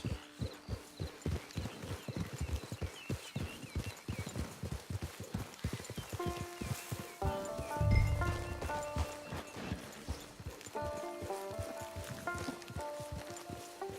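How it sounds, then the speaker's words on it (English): Hooves clip-clop in a steady walking rhythm, close and clear, followed by a soft snort and a light musical melody rising underneath, in Red Dead Online. "Get your horse."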